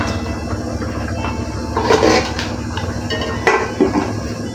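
A metal lid is set down on a cooking pot of eggplant, giving a couple of close clanking knocks over a steady background hiss, with no talk.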